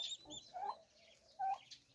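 A chicken, likely among young chicks after vaccination, clucking faintly and softly in short separate bursts, fairly quiet and alone without talk.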